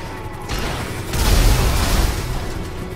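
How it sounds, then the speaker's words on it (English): A helicopter blows up after pistol shots in GTA V, with a loud booming explosion that swells and then rumbles on, preceded by a brief mechanical burst. "I think it was my seventh shot and destroyed the fucking helicopter"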